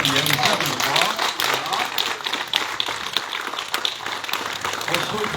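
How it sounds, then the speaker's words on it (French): Dense, loud applause from a gathered crowd at a hospital in Douai Dechy, continuous and close, with voices mixed into the clapping throughout. "on peut s'applaudir une deuxième fois"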